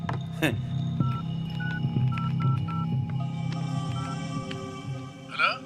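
A telephone number dialed in a scene, a string of short evenly spaced keypad tones over a steady low hum, ending in a brief warbling chirp.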